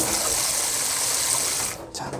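Hot water, around 40 to 60 degrees, gushing steadily as a yellowed white shirt with stained collar and underarms is soaked, a close, continuous splashing rush that drops away near the end.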